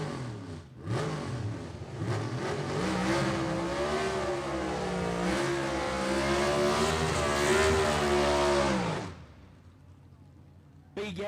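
A gasser drag race car from the Southeast Gassers Association roars down Gulfport Dragway during qualifying, a loud, rising engine howl with wavering revs that holds for several seconds before cutting off abruptly.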